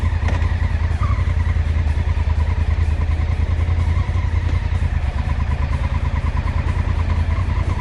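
A car drives through the streets of Nan town in northern Thailand at night, its steady engine hum and road rumble continuous and close, with other motorbike and traffic noise passing around it.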